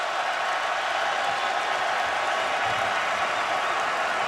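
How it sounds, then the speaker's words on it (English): A college basketball crowd roars for a player slapping the floor at a Louisville versus UC Irvine game, a dense, continuous wash of cheering that stays loud throughout. "Crowd responding to Njai smacking the deck with both of his hands"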